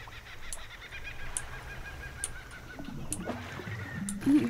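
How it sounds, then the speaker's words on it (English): Birds calling in the fishing video game Dredge, a run of honking, goose-like calls over soft game ambience, growing louder toward the end. "Birds?"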